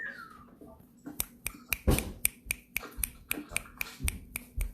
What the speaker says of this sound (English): I can see people clapping and doing the poetry snapping